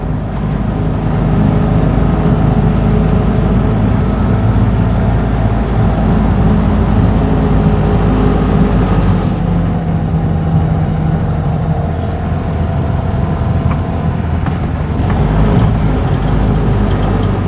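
The four-stroke engine of a 1959 BMW Isetta 300 microcar runs steadily and loudly up close, a continuous droning rumble with slight shifts in pitch.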